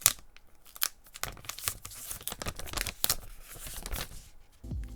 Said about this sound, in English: the OnePlus Nord peel test